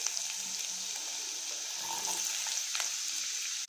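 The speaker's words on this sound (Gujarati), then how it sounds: "ઘી અને તેલ ગરમ થઈ ગયું છે, તેની અંદર આપણે સૌથી પહેલા ડુંગળી નાખીશું" Onions sizzle in hot ghee and oil for pav bhaji, a soft steady hiss at moderate distance with faint scraping underneath and no talking.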